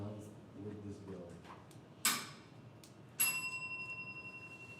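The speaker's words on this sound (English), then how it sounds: "The beginning of this period will be announced with this bell." A small hand bell rung to open a timed presentation period at a business competition, one sharp strike followed by a second ring that sustains and fades with a pulsing shimmer; a voice speaks quietly before it.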